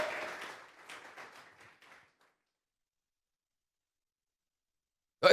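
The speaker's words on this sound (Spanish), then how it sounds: "Vamos a regalarle ofrenda de palmas al Dios de la gloria" A church congregation at a Tuesday Bible study claps as an offering to God. The applause starts loud and fades over about two seconds into silence, with a single sharp knock at the end.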